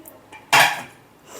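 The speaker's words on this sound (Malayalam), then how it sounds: "കുക്കർ ഇങ്ങനെ തുറന്നു." A metal lid comes off a pressure cooker of mutton biryani with one sharp clank, followed by a short scrape and then near silence.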